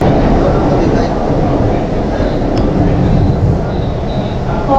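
An underwater metro train between Howrah and Sealdah runs with a loud, steady low rumble and rushing roar filling the carriage, with faint squeals near the end and voices talking underneath.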